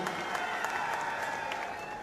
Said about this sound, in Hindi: उनके लिए भी जोरदार तालियों से मैं गड़गड़ाहट से स्वागत चाहता हूं।